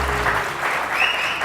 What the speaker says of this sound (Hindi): बहुत सारी तालियां ताहिर कयूम साहब